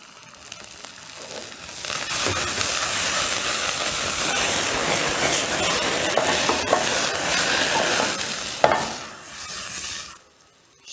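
White wine hits a pan of softened onions with a loud, steady sizzle that holds for several seconds, drops off briefly, then cuts out at the end, with no talking over it.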